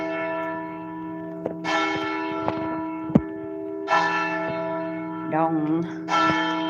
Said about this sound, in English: The bells do toll.